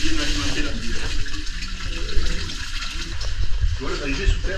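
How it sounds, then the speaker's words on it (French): A small underground stream running through a cave, a steady close rushing and trickling of water with a faint voice in the background. "D'autres petits ruisseaux qui viennent alimenter la ville."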